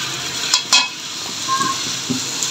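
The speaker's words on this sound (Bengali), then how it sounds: "দেখেন ভাজতে ভাজতে কালো হয়ে আসছে" Dried jute leaves frying in a pan while being stirred, a continuous dry sizzle broken by a few sharp scrapes and clinks of the utensil against the pan, close and fairly loud, with no talk.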